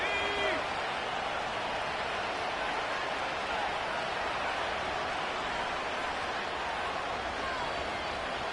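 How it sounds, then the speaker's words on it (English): A football stadium crowd late in the fourth quarter roars as a steady, loud wash of cheering noise, with a brief whistle-like tone near the start and speech faintly mixed in. "This crowd turning up the decibel level."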